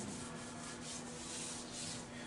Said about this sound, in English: you got to do the sanding properly